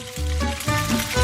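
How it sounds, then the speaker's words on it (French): Sausages dropped into boiling oil fry with a steady, fairly loud sizzle and bubbling that swells and dips over a short stretch, with no voices. "Et maintenant, je vais tout mettre dans l'huile bouillante."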